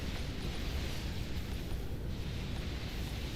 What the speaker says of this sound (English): we are right next to the fireworks